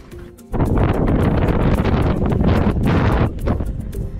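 Strong wind roars across a beach, blasting the microphone in a loud, steady rush for about three seconds before easing back to a lighter breeze.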